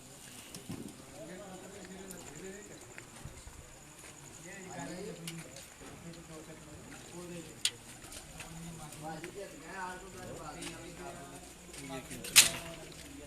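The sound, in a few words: pigeon cooing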